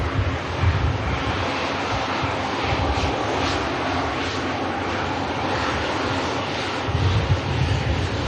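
Icelandair airliner at Manchester Airport, a steady broad engine roar filling the scene with wind-like rush, swelling slightly at the start and end; voices chat faintly nearby.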